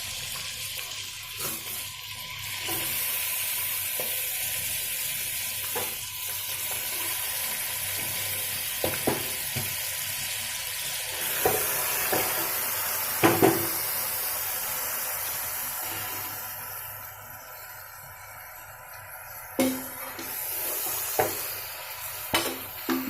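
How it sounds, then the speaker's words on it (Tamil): Chicken sautéing in a pan for a country chicken curry: a steady, close sizzle and fry throughout, with occasional sharp clinks and scrapes of stirring. "நல்லா சிக்கனை வதக்கிக்கோங்க."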